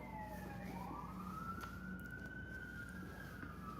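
Emergency vehicle sirens wail through a Hollywood street, sweeping tones rising and falling at a moderate distance over a constant traffic rumble, with no other voices present.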